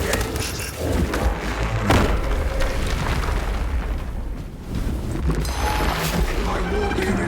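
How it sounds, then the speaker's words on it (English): Heavy weapon fire from a servo gun in the Warhammer 40k game, played on absolute difficulty, with loud booming bursts and thuds over a dense, continuous rumble of battle and mechanical noise. "Servo gun engaged."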